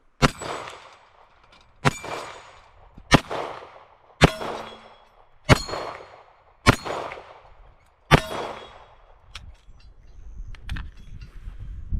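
A Sig Sauer P320 XTen 10mm pistol fires seven sharp, loud shots at a steady pace about a second apart, each followed by a ringing echo, then quieter clatter afterward.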